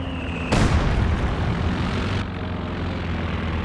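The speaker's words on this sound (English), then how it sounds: "Recon plane up for Stocky here." A recon plane in the video game Company of Heroes 2 roars overhead, its loud propeller engine rushing in abruptly and holding as a dense, continuous drone before easing to a lower background hum.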